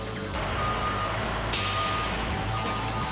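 A heavy-duty wrecker tow truck reverses with a steady repeating backup beep over a loud diesel engine rumble, close by, with a hiss of air brakes partway through.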